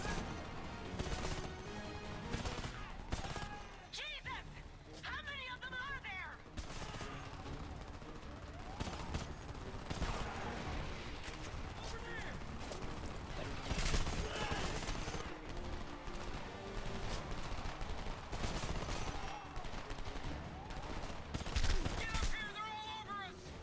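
Gunfire in the video game Homefront, with dense bursts of rifle and machine-gun fire, crashes and explosions almost nonstop, loud and busy throughout, with game voices and a player talking over the shooting.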